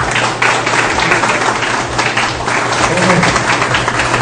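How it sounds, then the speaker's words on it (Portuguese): Applause for a communicator at a blog launch event in Cataguases, with a crowd clapping steadily and loudly throughout, mixed with background voices and a low steady hum. "eu acho que todos nós devemos uma grande salva de palmas a esse grande comunicador que é o Baiano."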